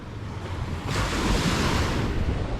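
Calm sea water laps at the shore with a steady soft wash of waves that swells louder partway through, mixed with some wind noise on the microphone and no talking.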